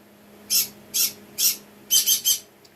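A pet parrot squawks in six sharp, shrill bursts, three evenly spaced and then three in quick succession, loud and close against a quiet room.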